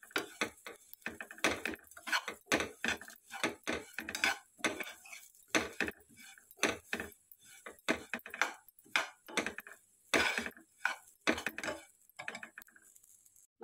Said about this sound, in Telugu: ఈ ఓట్స్ కూడా ఇందులో వేసుకొని మంచిగా కలుపుకోవాలి. కొంచెం ఫ్రై చేసుకోవాలి ఓట్స్ని.